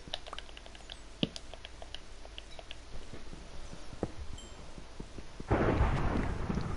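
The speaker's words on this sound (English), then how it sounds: "Was that thunder or something? Bro, it sounded like thunder." A deep rumble of thunder rolls in near the end in Minecraft, loud and broad, after several seconds of quiet clicking keyboard and mouse taps while playing.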